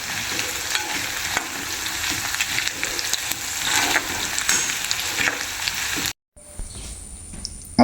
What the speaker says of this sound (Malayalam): ഇതൊന്ന് ഇളക്കി നല്ലോണം മൂപ്പിച്ചെടുക്കുക കേട്ടോ.